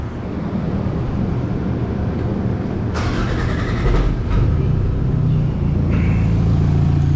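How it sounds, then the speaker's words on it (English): A car with a standalone ECU and distributor cranks and starts, the engine catching with a rumbling rise and settling into a steady running note. "So let's get this car started."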